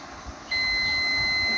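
A continuity tester probing a Pensonic 32-inch LED TV board gives a single steady high beep that starts abruptly after a moment of quiet and holds loud and unbroken to the end.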